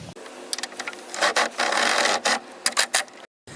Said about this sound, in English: we're using the flex head 10 to go ahead and tighten it up